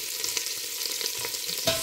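Chopped onions sizzle and crackle steadily in hot butter in a pan, with small pops and spatter throughout and no talk over it.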